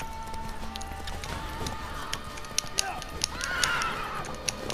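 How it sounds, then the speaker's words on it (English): Horse in The Witcher 3 video game neighing over galloping hoofbeats, with game music and effects and sharp clatters, while a voice talks over the action. "Oh, thank goodness, the horse."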